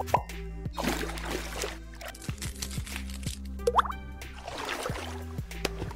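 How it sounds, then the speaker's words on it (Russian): Face being washed with water and cleansing foam during a salon facial, with close wet plops, squishes and splashes of hands on skin in an uneven rhythm, plus a brief squeaky rub. "Первым делом меня умыли."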